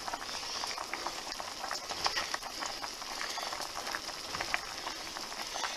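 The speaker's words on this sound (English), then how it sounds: "When you start putting too many in here, be careful, because it will boil over." A pot of turkey broth with canned biscuit dumplings at a rolling boil, a dense steady bubbling and popping texture, fairly close and even throughout with no voices.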